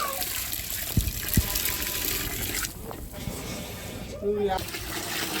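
Water pours and splashes into a pot of rice for mushroom biryani in bursts, with a couple of sharp clinks and a person speaking nearby.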